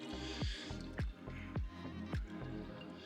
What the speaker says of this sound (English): I'm going to fill the filter back up with this water